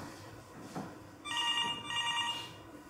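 An office telephone rings in two bursts of bright, trilling electronic tone, clear and close against a quiet room.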